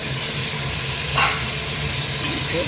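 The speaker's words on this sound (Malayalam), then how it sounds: "അതിനുശേഷം ഈ കുതിർത്ത് വെച്ചിരുന്ന കടല ഞാൻ ഇതിലേക്ക് ഇട്ട് കൊടുക്കുകയാണ്." Soaked chickpeas drop into a pan of tomato gravy that sizzles steadily up close, with a brief louder splash of frying as they go in.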